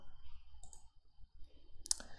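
A computer mouse double-clicks while editing text in Prezi presentation software, heard as a faint, brief pair of sharp clicks among quiet desk noise, with a clearer click near the end.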